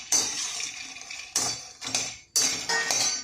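Roasted lotus seeds (makhana) are tipped out of a kadai in a few bursts, clattering and rattling against metal with sharp, bright scatters separated by brief pauses.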